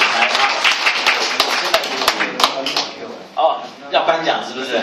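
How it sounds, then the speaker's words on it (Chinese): Audience applause at a Chinese-language stage ceremony: dense, steady clapping from a crowd, fairly loud and continuous, with sharper individual claps standing out and a brief dip before it swells again. "请大家热烈的掌声"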